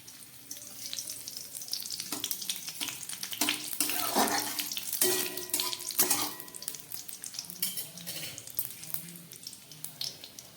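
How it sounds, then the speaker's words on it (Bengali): Bay leaf and garam masala hit hot white cooking oil in a pan, crackling and sizzling steadily throughout at close range, with stirring scrapes and small spatters over the steady hiss. "তেলটা গরম হয়ে গেছে, দিয়ে দিচ্ছি একটু তেজপাতা, আর সঙ্গে দিয়ে দিচ্ছি একটু গরম মশলা"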